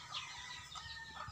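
Rooster (tandang) at a Filipino poultry seller's, giving brief clucking and crowing-like calls over a steady background hum for just over a second, with no talk.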